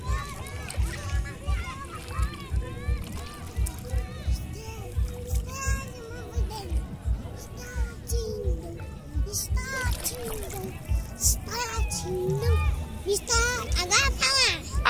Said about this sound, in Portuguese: Vem nadando pra cá!